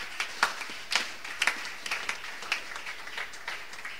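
A church congregation claps in praise, a loose, fairly steady rhythm of overlapping hand claps at moderate volume that carries on for the whole stretch, with no one talking over it.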